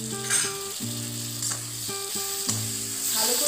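Chopped tomato with Kashmiri chilli powder and turmeric frying in oil while being stirred, a steady sizzle running beneath prominent tonal music, with occasional scraping accents.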